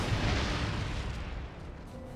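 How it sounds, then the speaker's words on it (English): Deep explosions from a siege worm in Guild Wars Prophecies form a dense, continuous booming rumble that fades slightly toward the end, with no talk over it. "Just to stop hearing the stupid siege explosion every 10 seconds."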